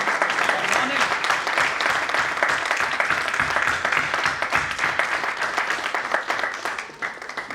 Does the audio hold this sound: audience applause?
yes